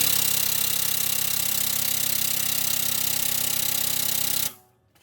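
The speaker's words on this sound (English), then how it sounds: "put it in the press, and I'm going to recompress the assembly." A press recompressing a motorcycle shock core assembly gives a loud, steady rapid pneumatic rattle that runs continuously, then cuts off abruptly near the end.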